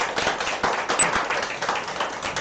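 Church congregation at a Sunday Eucharist clapping for two musicians: a brief burst of scattered, moderately close hand claps in an indoor sanctuary.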